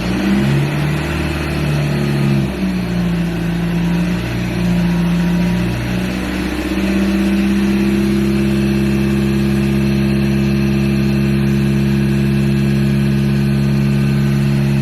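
A Ford Ranger engine with a budget power chip fitted, idling and then held at about 2,000 RPM, its steady drone stepping up in pitch partway through and staying loud and close with no talk.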